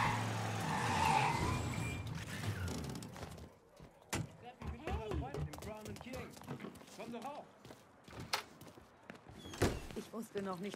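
A car speeding past 120 in Mafia III, engine and tire skid noise loud at first, then dropping back beneath someone talking over scattered knocks and road noise.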